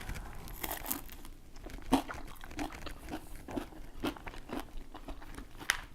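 Crisp crunching bites into a vegan pizza crust, crunchy outside and soft inside, with chewing crackles repeating every half second or so, close and fairly quiet, no talking.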